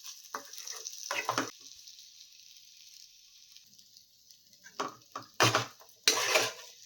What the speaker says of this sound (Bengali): আমি একটু আঁচ বাড়িয়ে কমিয়ে ভাজা ভাজা করছি